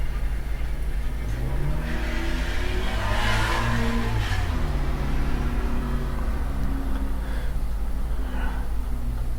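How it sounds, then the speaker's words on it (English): A Cub Cadet engine idles low and steady with a metallic rattle and buzzing from a cracked exhaust shield that comes and goes, close by, with no one speaking. "that's the noise of a cracked shield of some sort, probably on the exhaust"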